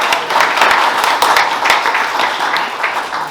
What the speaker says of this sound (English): Everyone give Greg a round of applause.